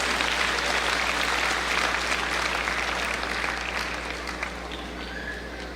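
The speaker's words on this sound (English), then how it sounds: "Could you give the company a round of applause?" Sustained audience applause fills a commencement ceremony hall, a dense wash of clapping that holds steady for several seconds and then gradually tapers off, with no talk over it.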